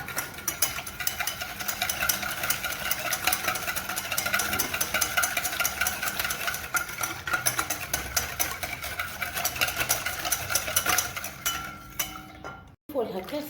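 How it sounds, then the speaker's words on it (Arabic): Half a glass of sugar and half a glass of oil are mixed briskly in a bowl, giving a fast, steady clatter of utensil against the bowl throughout, close and fairly loud, ending with a brief dropout. "نخلطوا المكونات تاعنا مليح بهذا الشكل."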